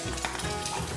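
Dirty water pouring out of a Noritz NRC98DV tankless water heater during a flush, a close, continuous hissing splash with no talk.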